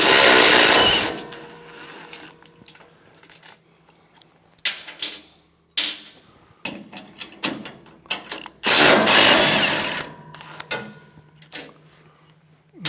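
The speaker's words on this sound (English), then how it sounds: "Now I'm going to go over on the other end and remove those. Once again, they're a 3/4 inch wrench." Bolts on a Muskox 23 37 snowblower being loosened with a 3/4 inch wrench, giving metallic clinks, ratcheting scrapes and tool knocks in irregular bursts, with louder handling clatter near the start and again later, close by.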